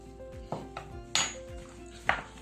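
A spoon clinks and scrapes against a bowl as salt and soy sauce are stirred together, with four distinct metallic taps spaced through a quiet kitchen background.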